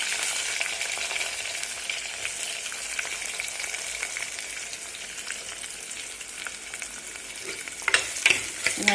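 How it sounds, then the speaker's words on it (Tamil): Onions sautéing in a pan for a dried-fish kuzhambu give a steady, close sizzle that holds evenly throughout, with a few louder scrapes of stirring near the end. "வெங்காயம் போட்டு நல்லா வதங்கட்டும் கொஞ்சம்."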